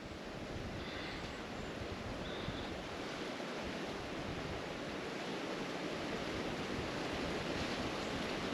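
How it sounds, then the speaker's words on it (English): Wind blows through trees at a quiet, high-elevation off-grid homestead, a continuous soft broadband rush that holds steady throughout with no talking. "Where you can just hear the wind in the trees."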